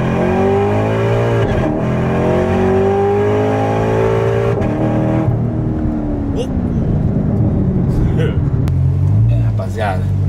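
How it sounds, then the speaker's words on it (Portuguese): A car engine revs hard and accelerates in a parking lot, its pitch climbing and falling in loud sweeps before settling into a deeper rumble, close by with voices speaking over it. "Eu vou lá com o meu carro, né? Já aproveitar pra dar uma acelerada."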